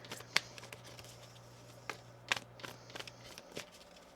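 A tarot card deck being shuffled by hand: a quiet series of soft riffles and crisp card snaps scattered irregularly over a few seconds, close and alone over a low background hum.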